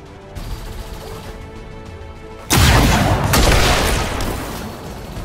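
Video game gunfire and blasts in Destiny: a quieter stretch, then a sudden loud burst of dense shooting and explosive booms that carries on to the end.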